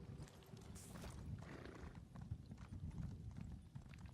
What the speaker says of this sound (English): I just want to feed my horse